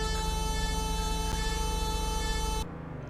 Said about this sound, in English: The horn on this car is absolutely ridiculous, though.